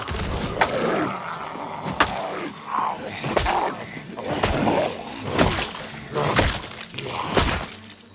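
Repeated heavy stomps on zombies in Project Zomboid, a series of loud thuds and cracks spaced roughly a second apart, mixed with squelchy impact noises and short game effects.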